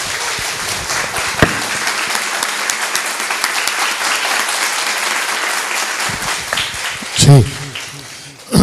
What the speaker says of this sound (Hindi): एक अच्छी ताली के साथ सब बैठ जाए